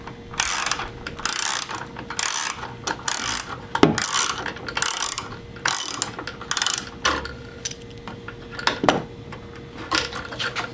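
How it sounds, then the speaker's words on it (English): A ratchet loosening a bolt on a 2018 Ford F-150, with rapid clicking bursts repeated in rhythmic strokes, loud and close, with a few metallic clanks between them and no voices. "We're going to loosen the bottom one a little more so you can slide that bracket over it."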